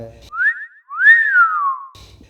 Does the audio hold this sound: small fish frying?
no